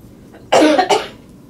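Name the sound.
coughing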